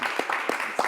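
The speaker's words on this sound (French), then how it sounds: "J'aimerais qu'on applaudisse pour notre invité." A studio audience applauds a guest singer on a French-language talk show, with a brief burst of broadband clapping and a few sharper, evenly spaced claps standing out over about one second.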